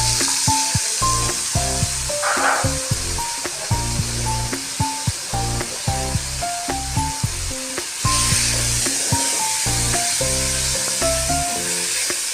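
Green peas frying in a tablespoon of oil in a frying pan, with a hissing sizzle under a repeating pattern of clear background musical tones, steady and close with no voices.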